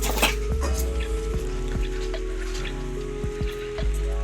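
Rain pattering on a surface, with irregular drops and sharp taps striking nearby over a low steady hum, no one talking.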